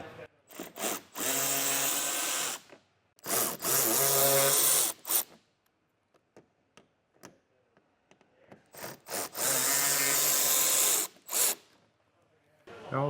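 A power tool backs out 8mm bolts in the wheel well of a 2024 Jeep Grand Cherokee, with four loud, close whirring bursts of a couple of seconds each, separated by quieter gaps with small clicks and handling noise.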